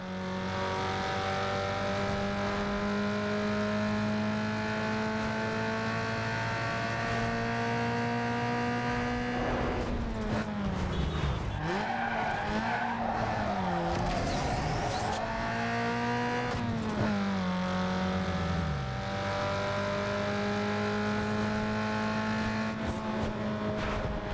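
A Toyota Corolla races with nitrous in the video game Need for Speed Underground 2. Its engine holds a steady high drone, then drops and climbs again through gear changes, with a burst of tire squeal and rushing noise midway.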